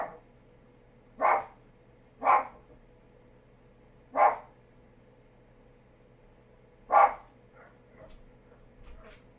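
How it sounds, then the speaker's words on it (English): A dog indoors gives four sharp, isolated barks at irregular gaps, close and clear over a low steady room hum, followed by a few faint softer sounds and no speech. "The dog will shut his face now"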